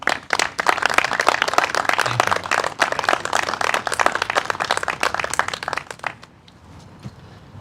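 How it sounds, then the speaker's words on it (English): A crowd at a political rally claps steadily in dense, sustained applause that fades out near the end. "How about another warm round of applause for Joel there?"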